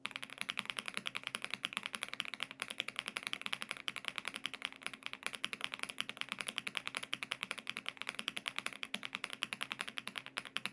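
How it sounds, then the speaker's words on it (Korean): A Monkey EK106 Pro mechanical keyboard fitted with cloud switches is typed on rapidly and steadily, each close keystroke giving a rounded, pebble-like clack in a dense, continuous stream with no voices. "타건감을 바로 한번 들려드릴게요."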